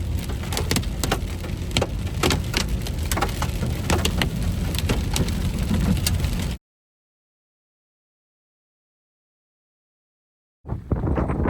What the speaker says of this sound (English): Starting to get some hail here as we approach the wall cloud here.